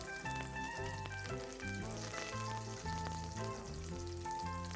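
Chopped onions and garlic frying in hot oil in a pan for radish sambar, giving a continuous close sizzle that runs beneath background music.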